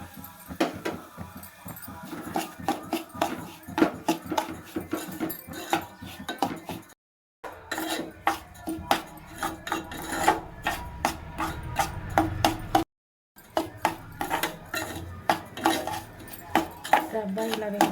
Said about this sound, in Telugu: రవ్వ ఇలా వేయించుకొని పక్కన పెట్టుకోవాలి.